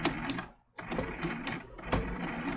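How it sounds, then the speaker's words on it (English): A sewing machine stitches a snowman trivet along a marked line, its motor whirring in close, steady runs with one brief pause. "And we are sewing right on that pink line."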